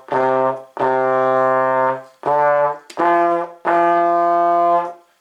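Trombone plays a short phrase of Mary Had a Little Lamb with five sustained, mellow notes separated by brief gaps, up close and clear with no talking.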